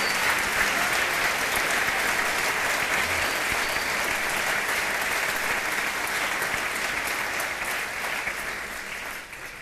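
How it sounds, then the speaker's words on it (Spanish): Sustained applause from a church congregation, dense steady clapping that fills the space for nearly ten seconds before easing slightly at the end, with no voices standing out. "Se merece un aplauso el Señor."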